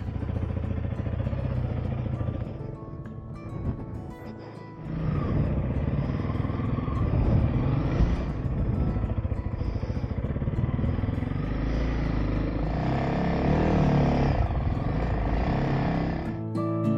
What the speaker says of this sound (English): let's get the bike out of parking, hit the road, and go have some fun